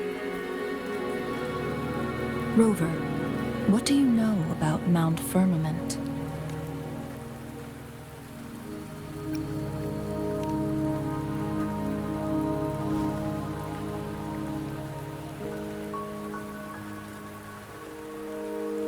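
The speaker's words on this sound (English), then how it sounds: "Don't worry, the rain won't last much longer." Steady rain falls in the video game Wuthering Waves, a continuous wash heard throughout beneath sustained game music, with a voice speaking in the middle stretch.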